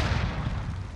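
A grenade detonates in an online gunfight shooter game, one short, dense boom with heavy low rumble that fills the moment and fades quickly.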